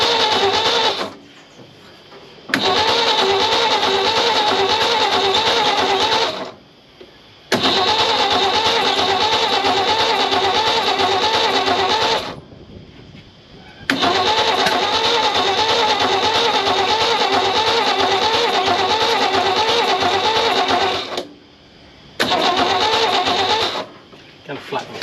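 An old abandoned Holden ute's engine cranks over repeatedly in several long bursts separated by short pauses, coughing as it churns, loud and close.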